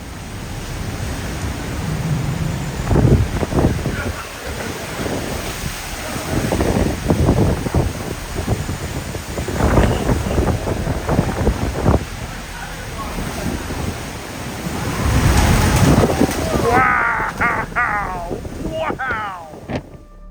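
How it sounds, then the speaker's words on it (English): Hurricane Ian's roaring wind and crashing surf in Punta Gorda, Florida rush continuously, swelling in loud gusts with a constant hiss of spray; faint voices occasionally show through the din. "Gusts of extreme winds associated with eddies and mesovortices in the inner eye wall take massive bites from buildings"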